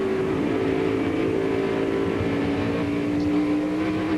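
NASCAR Winston Cup race car at wide open throttle on the Bristol Motor Speedway short track, rear tires spinning: a steady, loud engine roar with a sustained droning pitch, continuous with no speech.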